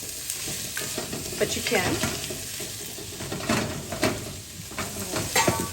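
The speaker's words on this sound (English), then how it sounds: "Give that a little saute." Vegetables sautéing and sizzling in a pan for pasta primavera, with steady frying hiss, stirring scrapes and occasional utensil clinks close by, while people talk briefly over it.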